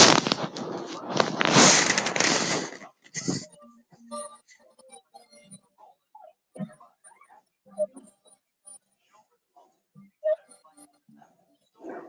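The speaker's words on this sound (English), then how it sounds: "Oh, here's the nail gun." A nail gun fires in the horror film Toolbox Murders: a dense, loud, crackling burst of rapid shots for about three seconds, then scattered faint clicks and small metallic sounds.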